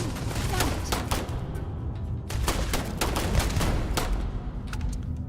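Enemy gunfire in the video game Starfield, with foes emptying full magazines in dense, rapid bursts of shots that crackle continuously and loudly across the whole stretch.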